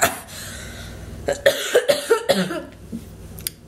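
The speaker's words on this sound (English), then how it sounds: "I'm coughing" A person coughs in a quick series of harsh, close bursts, followed by a lone final cough after a brief pause.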